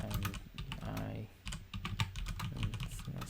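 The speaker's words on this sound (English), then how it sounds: "my keyboard's loud" A loud computer keyboard clatters with rapid, uneven keystrokes close by, a busy run of sharp clicks with short pauses while someone codes.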